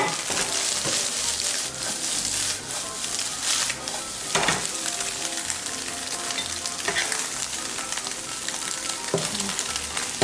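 Eggs stir-fried over high heat for salt-and-chili eggs crackle loudly and continuously in a pan, with scraping stirs and occasional sharp clinks of the utensil breaking up the pieces.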